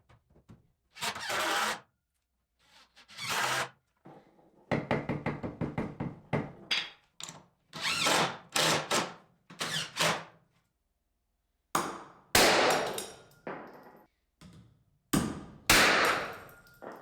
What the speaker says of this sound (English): I can install this stud that's connecting the 2 separate sections of wall by toe-nailing it in place